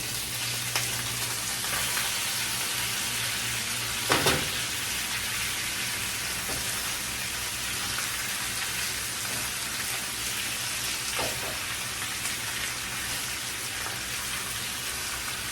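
Shrimp fry in a pan with butter and garlic, giving off a steady, even sizzle that crackles like light rain. One or two soft utensil knocks break through, and no one talks.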